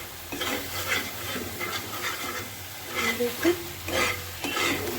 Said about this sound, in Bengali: এবার এই মশলাটা আমি একটু অ্যাড করে দিই, দিয়ে ভালো করে কষিয়ে নেব